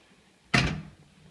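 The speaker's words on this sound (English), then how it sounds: "Close the door." A large white outdoor unit door on a TRANE heat pump swings shut with a single solid thunk that decays over about half a second, close and fairly loud against a quiet background.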